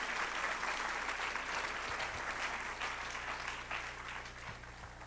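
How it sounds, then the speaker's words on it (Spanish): A church congregation claps together in steady, sustained applause filling the room, fading slightly toward the end, with a faint low hum beneath. "Dale un fuerte aplauso a nuestro Dios."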